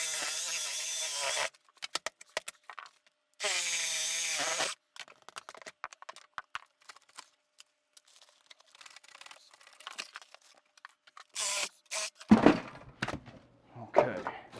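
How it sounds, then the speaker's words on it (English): A power saw cuts out a wooden wall stud during a bathroom vent-to-wall duct reroute, with two loud buzzing bursts of cutting separated by a pause, then scattered quieter knocks and thunks, and a heavy clunk near the end. "cut out the stud"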